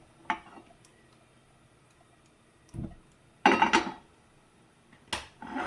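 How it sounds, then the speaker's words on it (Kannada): A gas stove is lit in a home kitchen to heat a flat iron griddle: a few sharp, close clicks and clattering knocks come in separate bursts with quiet between them, and no one speaks. "ಮೊದಲಿಗೆ ಸ್ಟವ್ ಹಚ್ಕೊತಾ ಇದ್ದೀನಿ"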